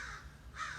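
A crow caws twice at backyard bird feeders, each caw a harsh, moderately distant call.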